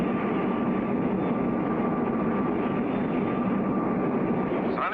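A cartoon test plane accelerates toward supersonic speed, a dense continuous jet roar with a steady whine holding throughout, loud and alone without speech.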